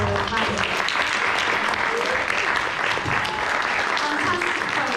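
An audience at a community event on eliminating racial discrimination applauds a poet, sustained, loud, dense clapping with some crowd murmur underneath throughout.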